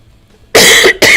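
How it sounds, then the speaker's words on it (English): A man's harsh cough, two loud close bursts in quick succession following a quiet moment. "Going to my 12th week with this cough"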